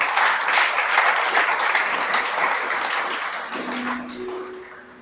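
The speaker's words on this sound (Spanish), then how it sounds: "Ustedes, denle un aplauso al Creador" A church congregation gives loud, sustained applause during a Spanish-language sermon, with dense clapping that holds steady for several seconds and then gradually fades out.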